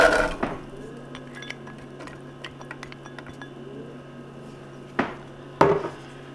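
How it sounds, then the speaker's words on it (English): Chopped onion tumbles into a soup pot and is stirred with a spoon, giving a few clinks and clanks against the metal, with sharper knocks near the end over a faint steady hum. "And then we're going to add in our 1 chopped onion."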